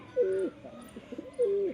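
A male and female pair of flying domestic pigeons coo close by: two drawn-out, throaty coos bracket a stretch of softer gurgling murmurs, with no talking over them.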